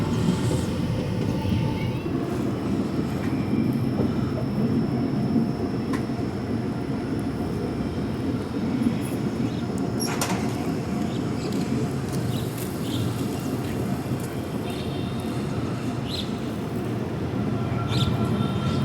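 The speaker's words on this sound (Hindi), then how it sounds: "अभी हमारी ट्रेन एंटर कर रही है इगतपुरी रेलवे स्टेशन में" Inside the Rajya Rani Express as it pulls into Igatpuri railway station, a steady loud rumble of wheels and carriage runs throughout, with brief metallic squeals and clanks partway through.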